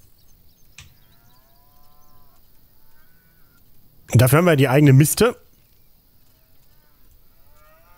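A single cow in the farming game Farm Manager 2018 lets out one loud, drawn-out moo lasting about a second, following quiet background, with someone speaking German softly around it.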